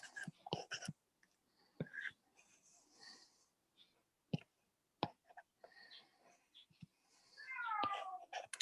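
A cat's meow, or a person's voice imitating one, rises at the end among scattered soft clicks and rustles, with a short drawn-out call after quieter moments.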